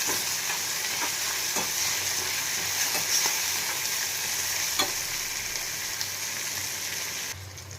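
Continuous loud sizzling of tomato and onion frying in hot oil, with occasional stirring taps against the pan throughout.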